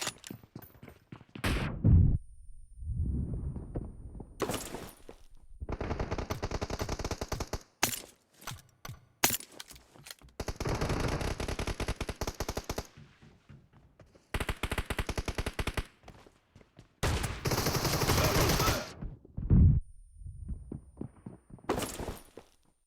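Shotgun gunfire in the mobile game PUBG Mobile during a shotguns-only team deathmatch comes in loud repeated bursts of rapid blasts, separated by quieter gaps with thuds and movement sounds.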